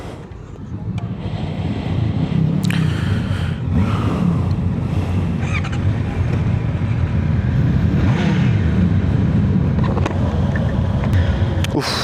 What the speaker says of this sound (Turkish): Motorları çalıştıralım.